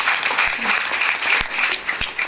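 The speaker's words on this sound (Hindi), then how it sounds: "TC leader mister Sundarlal Dwivedi sir के लिए एक बार जोरदार तालियां बजाएं।" An audience at a business meeting in Nallasopara gives loud, continuous applause for a leader, with dense, close clapping that stays strong throughout the short stretch.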